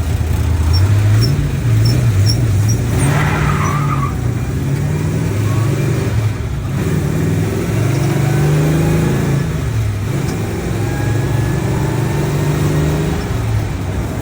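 A car with a Mopar 440 V8 accelerates from a standstill, the deep engine roar climbing through repeated rises in pitch as it shifts through the gears, loud and close from inside the car, with no talk.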